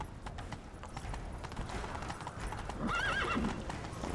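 Rhythmic clip-clop of galloping hooves in The Witcher 3 over steady game background noise, with a brief horse whinny near the end.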